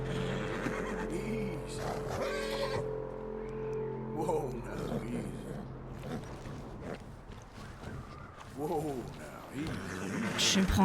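A horse in Red Dead Redemption 2 gives several harsh whinnies amid a snowy blizzard, with game sounds and a voice talking over much of it.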